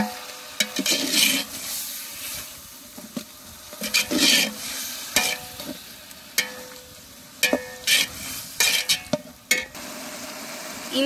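Green chilies and tomato sizzling and frying in a pan for turkey dum biryani, with repeated bursts of spoon stirring and scraping over a steady crackle, close by with no talk.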